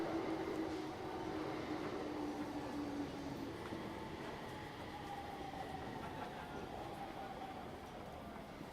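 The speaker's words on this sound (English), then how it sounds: "The train arrived at UBS station and the doors opened." A train pulls into a station with a steady rumble of wheels on rails and a falling tonal whine of braking, gradually easing in level.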